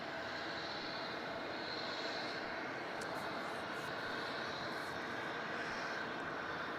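A Qantas Boeing 737 arriving from Brisbane at Melbourne Airport gives off a faint, distant, continuous engine hum that holds steady throughout, low in level and heard alone without talk.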